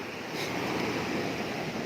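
Surf on Patong Beach in Phuket at night, a steady broadband wash of waves with faint wind noise that holds throughout.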